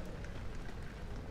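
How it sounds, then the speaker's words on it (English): Steady heavy rain pours in the horror video game Amnesia, a dense, continuous hiss of drops falling close and loud without a break. "I want to know why the rain isn't coming in through that open roof"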